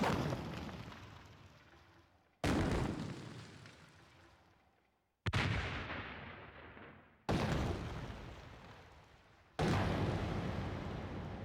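Surrendered weapons of war are destroyed by firing in a disposal bed. Five separate heavy booming blasts come at irregular intervals, each decaying slowly into a long rumbling tail, with no talking.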